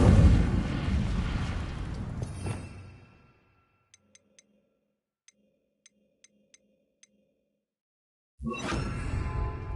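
An Incendio fire spell cast in the Hogwarts Legacy video game makes a loud whooshing, explosive burst that fades into near silence with a few faint ticks, then another sudden roaring burst.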